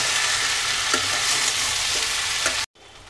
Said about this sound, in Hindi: आलू और सेम को हम साथ में ही भून लेंगे। इसे हम चला लेते हैं और 2 से 3 मिनट भूनने में लग जाएगा।